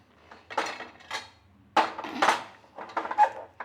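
Spoon scraping and clinking against a pot while rice is mixed with coriander for hirlikayi chitranna, a Kannada citron rice dish: several separate bursts of stirring, close and clear, with no talk.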